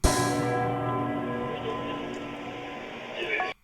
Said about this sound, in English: I like this bell on the break.